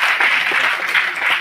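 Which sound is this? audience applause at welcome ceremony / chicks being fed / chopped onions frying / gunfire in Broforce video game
audience applause at welcome ceremony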